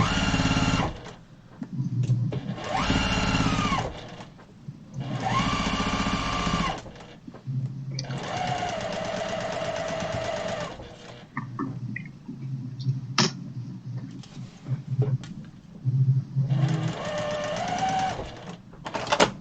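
A close sewing machine stitches a patchwork quilt, running in repeated bursts of rapid whirring with brief stops between them as the seam is sewn forward and backstitched.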